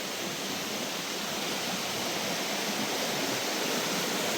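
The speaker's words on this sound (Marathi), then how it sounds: "बघा इथून पाणी वाहतंय" Water flowing steadily in a stream in woodland near farm fields, a continuous broadband rush that stays loud and even throughout with no voices.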